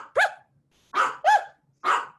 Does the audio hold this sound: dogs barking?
yes